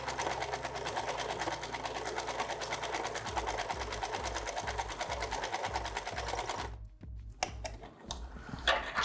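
Domestic sewing machine stitching patchwork fabric, a steady rapid mechanical whir with fast needle ticking, running close and continuously before stopping abruptly, followed by a few soft handling clicks.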